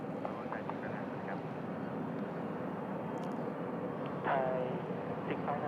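An Eva Air airliner, flight 212 bound for Taipei, passing on the runway at Bangkok airport, heard as a steady, broad jet roar that swells slightly toward the end.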